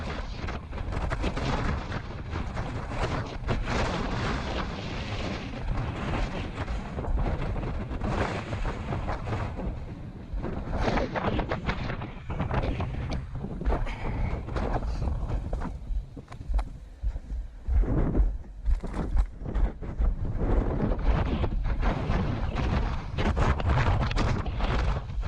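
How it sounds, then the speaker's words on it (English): Strong gusty wind on sea cliffs buffeting the microphone in loud, roaring bursts, with brief faint voices at moments. "It's very windy, isn't it?"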